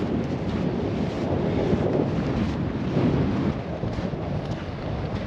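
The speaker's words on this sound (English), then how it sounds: "The wind has really picked up." Strong wind blasting through Akshayuk Pass on Arctic Baffin Island, a loud continuous roar with heavy buffeting on the microphone, steady throughout and with no talk.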